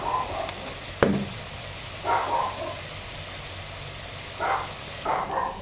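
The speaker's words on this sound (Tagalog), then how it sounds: "Ayan na, gisa-gisa muna tayo." Jackfruit sautéing with pork in a pan, a soft background sizzle broken by several short bursts of stirring and scraping, with a sharp knock near the start.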